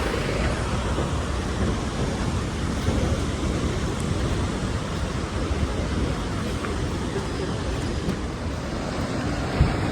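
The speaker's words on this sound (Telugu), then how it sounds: "మీరు చూడవచ్చు ఈ వాటర్ ఫాల్ వాటర్ ఇక్కడ పోయి మనకు రివర్లోకి వస్తుంది." Waterfall water pouring down into the Kali Gandaki river in Nepal, heard as a constant dense roaring rush with wind buffeting the microphone, no voices.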